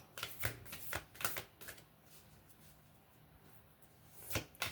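Oracle cards being shuffled by hand in a series of crisp riffling bursts, close and fairly clear, with brief pauses between the shuffles and no talk.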